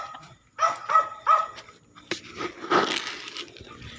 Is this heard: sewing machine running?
no